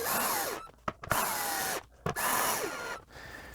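A power drill boring into wooden shelves for a minivan camping build, three loud whirring bursts separated by short clicking pauses, close up with no talk.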